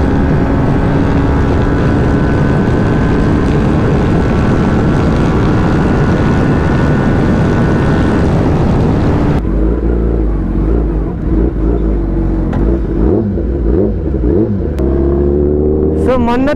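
Motorcycles, among them an Apache and a Ducati, ride a road on a hot day. A loud, steady roar of engines and wind fills the first half, then drops to a lower rumble as voices talk over it.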